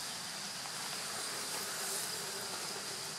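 Honeybees humming around a freshly opened Dadant hive during a transfer from a nucleus box, a steady close-up buzzing drone with no voices.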